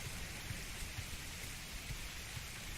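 Steady rain falling in the Atlas pirate survival video game, a continuous hiss of downpour with scattered low thuds, fairly faint and alone without talk.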